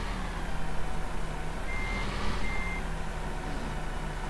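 Reversing beeps from a truck in Farming Simulator 15, a faint intermittent tone over a steady engine rumble and game ambience, with no talking.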